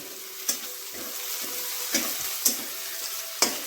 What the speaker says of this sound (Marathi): या अशा प्रकारे आपण कांदा फ्राय करून घेत आहोत